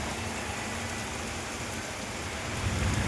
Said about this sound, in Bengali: বৃষ্টি পড়ছে অতিরিক্ত